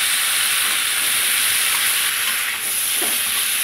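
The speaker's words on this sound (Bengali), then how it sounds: "এখন আমি ফুলকপিগুলো দিয়ে দেব।" Steady loud sizzle and hiss of frying in a pan of potatoes, cauliflower and koi fish curry, with faint stirring scrapes near the end.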